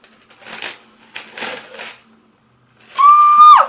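Tissue paper being unwrapped from a designer Chloe sandals box, heard as two bursts of soft crinkling and rustling close by, followed by a short, sharper, brighter rustle at the end.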